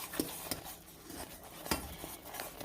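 Metal utensil scraping and tapping in a pot while a Ritz cracker cookie caramel topping is stirred on the stove, a series of sharp clinks spaced irregularly at moderate volume, with no talking.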